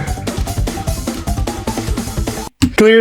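Sped-up Haunted Woods game music, fast and bouncy with quick rhythmic hits and bright tones, cutting out briefly near the end before a new sustained phrase starts.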